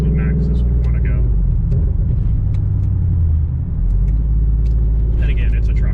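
A pickup truck with a swapped Ford Coyote V8 drives along, its engine and road rumble steady and close throughout, with people talking over it.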